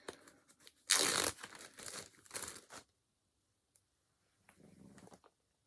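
A plastic baggie holding a few pairs of scissors crinkles and rustles close by in two or three loud handling bursts, then goes quiet before a softer rustle.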